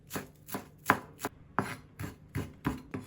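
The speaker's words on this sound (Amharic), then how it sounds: "በመቀጠል ፐርስሊን አለኝ፣ ፐርስሊኑንም በደንብ አድቅቄ ከትፈዋለሁ።" A knife chops parsley finely on a board, eight quick, close, even strikes in a steady rhythm, with no talking.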